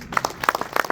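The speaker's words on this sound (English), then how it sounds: "Another round of applause for him," An audience at the close of an opening session applauds a speaker, a short burst of distinct, fairly close claps from a small group.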